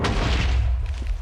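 A hyperkinetic lens blast strikes an obsidian base in Minecraft Tekkit: one loud, deep boom with a low rumbling tail that fades over about a second, heard alone.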